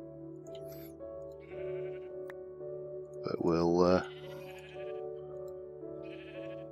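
Sheep bleat in a blocky Minecraft-style game, first as a faint background bleat, then as one loud, wavering bleat up close, with someone talking over game music throughout.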